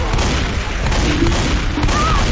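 A fire bomb explodes in a zombie video game during a rainstorm, a loud sustained roaring blast blending with the dense hiss of heavy rain.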